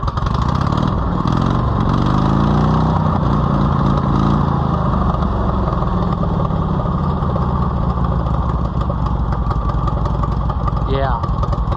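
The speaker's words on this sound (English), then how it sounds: "the muffler is no longer with us, so now it sounds like a motorcycle" A loud, raw Oliver 70 tractor engine with no muffler roars continuously at close range, a rough unmuffled rumble that stays steady throughout.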